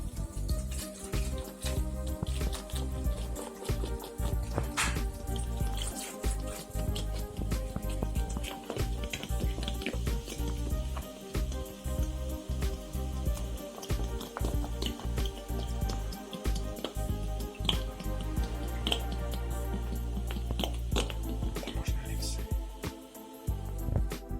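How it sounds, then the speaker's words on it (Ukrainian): Two liters of beer pour over a pork knuckle in a pot, giving a steady splashing, fizzing liquid rush that continues throughout at moderate level. "Заливаємо пивом рульку. У нас 2 літра пива."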